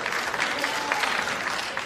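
Studio audience on a comedy talk show breaks into steady, dense applause, loud and sustained for the full stretch with no voices over it.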